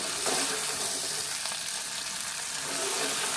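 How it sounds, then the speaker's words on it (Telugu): Okra frying in hot oil in a home kitchen pan, a steady dense sizzle with the soft scrape of stirring, close and continuous with no talking. "ఆయిల్లో మనం మగ్గించుకుంటున్నాం"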